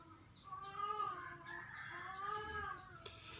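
A chicken gives a string of short, rising and falling calls, fairly faint against a quiet outdoor background during a hunt.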